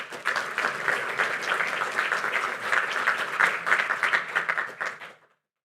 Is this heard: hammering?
no